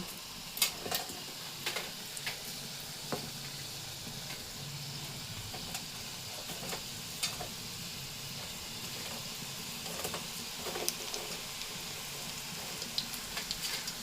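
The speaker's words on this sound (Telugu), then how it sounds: "ఆయిల్ హీట్ ఎక్కింది పకోడీ వేసేసుకుందామండి" Ajwain leaf pakodi batter fries in hot oil, a continuous soft sizzle with intermittent crackles and bubbling pops, heard fairly close and alone without talking.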